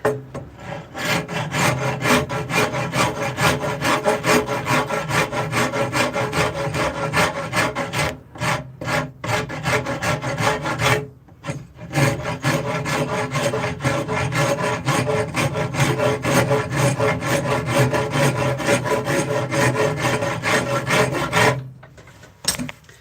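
A half-round file scrapes across a forged metal spoon held near a clamped bolt, making loud, close, rapid back-and-forth rasping strokes that run continuously with a few short pauses.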